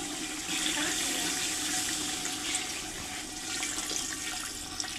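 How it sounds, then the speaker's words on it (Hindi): Water poured into a pot of browning potatoes and spices for a liver curry, a steady splashing, hissing wash that runs the whole time, fairly close and without talk. "पानी ऐड करा"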